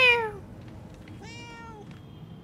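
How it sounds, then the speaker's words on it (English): A cat meows twice in the video game Murdered: Soul Suspect: a loud, falling meow right at the start, then a second, longer and quieter meow just past the midpoint, over a low ambient hum. "it's a kitty cat again"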